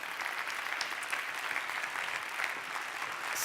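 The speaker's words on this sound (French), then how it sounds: "sous les applaudissements du public, bien sûr." Public audience clapping as finalists enter the hall at a science communication contest final, sustained even applause from a large crowd, somewhat distant and unbroken by voices.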